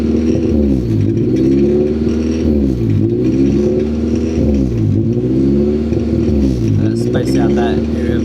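A car engine running rich revs up and down in repeated surges, loud and close, with a rough, throaty exhaust note and a rattle from the exhaust near the end.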